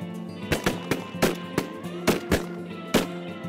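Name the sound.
shotgun shots during duck and goose hunting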